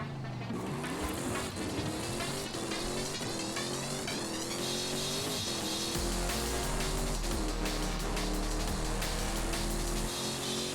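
A 2002 Chevrolet Corvette Z06 in Forza Horizon 5 roars continuously, its engine note rising and shifting through revs, loud and close with no one talking.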